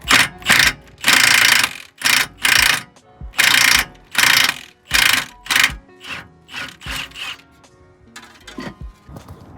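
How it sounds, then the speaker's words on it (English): An impact gun loosens a tie rod on a BMW, firing in about a dozen loud, close rattling bursts separated by short pauses, with the later bursts getting shorter and quieter. "I'm gonna try it with the gun right here, with the impact gun."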